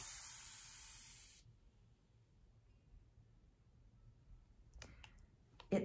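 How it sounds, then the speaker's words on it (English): A spray bottle gives one steady, loud fine-mist spray for over a second, then cuts off into near silence broken by faint clicks. "anytime you add just a small mist spray"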